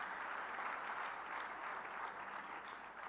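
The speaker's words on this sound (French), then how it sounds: "applaudisse fortement." Audience applause fills the room after a speech by the Vice-President of Côte d'Ivoire, a steady, even wash of clapping hands that holds throughout, heard from some distance.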